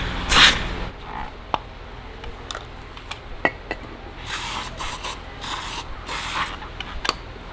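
A short hiss of fluid spraying from a pried connector on a Ferrari 458 bursts out close by, followed by scattered clicks and scraping, then further bursts of hissing spray.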